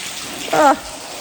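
A foot plunges into deep water inside an abandoned highway tunnel, a single short splash against a quiet hiss.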